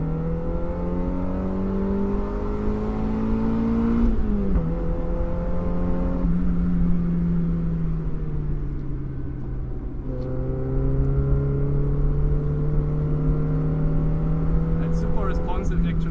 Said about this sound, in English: Such a nice sounding car actually.